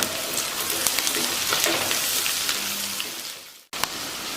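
Vegetables for poha upma sizzle and crackle in a pan, a soft continuous frying hiss with small pops, briefly cut off near the end before resuming.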